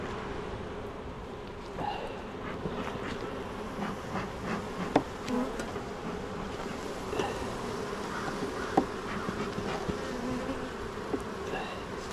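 Honey bees buzzing around an open beehive during an afternoon inspection in June: a steady, dense drone of many bees nearby, with individual bees passing close now and then.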